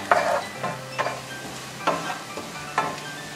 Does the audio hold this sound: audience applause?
no